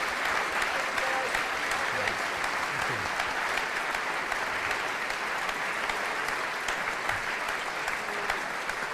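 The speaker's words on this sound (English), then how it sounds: "Final warm round of applause for your Deputy Chairman" Brighton fans at a supporters' meet-and-greet event give Deputy Chairman Paul Barber a warm, sustained round of applause, steady dense clapping filling the room from start to finish.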